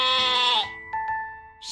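A single wavering sheep bleat, loud and close, followed by a couple of short tonal blips.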